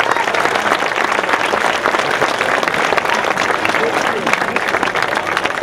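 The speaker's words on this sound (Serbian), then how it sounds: "Molim vas još jedan aplauz za dobar početak." A large audience at an outdoor folklore concert festival applauds loudly and continuously, with dense sustained clapping from many hands close by and throughout.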